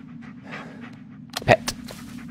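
Bullet, the dog in the video game Blair Witch, pants close by in quick breathy puffs, ending in a short louder burst of breaths.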